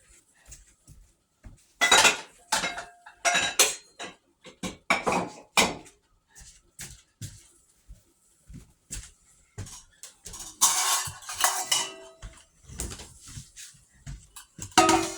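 Dishes, bowls and utensils are set down in a kitchen sink while clearing space to mix tortilla dough, a string of close clinks, clatters and knocks at an uneven pace with short pauses, no talking.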